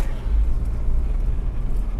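Mitsubishi Galant GTI engine pulling steadily in second gear on an uphill road, a continuous low in-car rumble with no speech over it.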